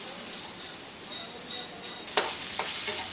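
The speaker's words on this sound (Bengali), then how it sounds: "আলুটাকে একটু ভেজে নিচ্ছি।" Potatoes frying in a pan give a steady, close sizzle with stirring scrapes and a few sharper clatters, no talk over it.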